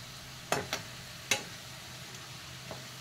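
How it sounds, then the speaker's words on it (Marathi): Champakali snack fries gently in a pan, a low steady sizzle broken by three or four sharp scraping clacks as the pieces are turned over. "अशा आलटून पालटून आपली चंपाकळी भाजून घ्यायची आहे."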